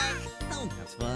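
A voice imitates a duck's quacking in a short run of nasal calls, close and fairly loud, sung playfully over soft background music in a children's show.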